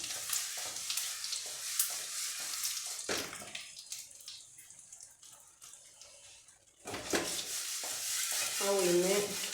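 Urad dal sizzles and fries in a hot pan while being stirred, with bursts of crackling separated by quieter stretches and a clattering stir near the end.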